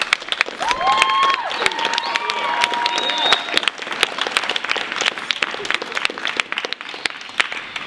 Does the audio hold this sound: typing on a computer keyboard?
no